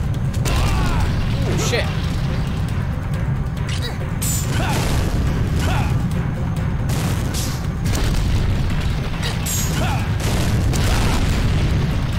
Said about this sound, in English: Got no more cannon shots. I'm done for.